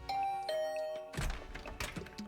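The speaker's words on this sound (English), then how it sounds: "Ring the bell just in case." A soft doorbell in The Hundred Line: Last Defense Academy chimes a couple of clear tonal dings at a dormitory door, followed by muffled thumps and shuffling as the door opens.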